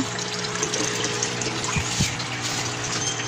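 Steady running water from a turtle tank filter, a continuous gushing, bubbling flow with a faint hum underneath and no voices.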